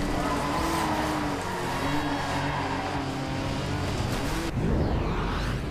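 A Porsche accelerating in the Forza Horizon 2 video game, its engine a sustained revving whine that holds, then drops and sweeps up sharply near the end, loud and close.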